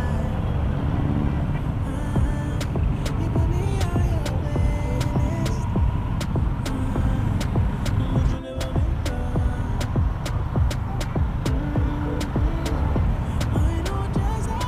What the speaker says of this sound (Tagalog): Ito naman yung traffic.